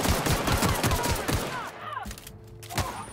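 Pistol gunfire in The Outer Worlds, a quick string of sharp repeated shots at first, then scattered single cracks among game sounds.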